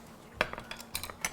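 Beaten eggs are whisked in a bowl with a utensil, giving light, irregular clinks and taps against the dish, quiet and close.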